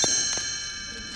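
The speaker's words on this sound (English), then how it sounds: "You will know it is time to turn the page when you hear the chimes ring like this." Bright metallic chimes ring out and sustain with a shimmering tone, decaying slowly over about a second.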